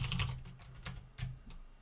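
Someone types on a computer keyboard while writing Java array code, with quick close clusters of key clicks and short pauses between bursts.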